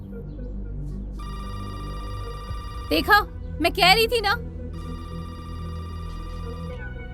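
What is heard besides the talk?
telephone ringing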